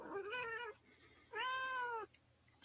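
A house cat meows twice, each cry drawn out and clearly pitched, with a short pause between them and a third call beginning at the very end, close and loud against a quiet room.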